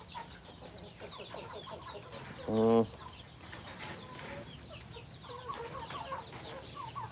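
Domestic free-range chickens, hens with chicks, clucking softly near and far outdoors in a village yard, with one louder, drawn-out squawk partway through and faint background chatter.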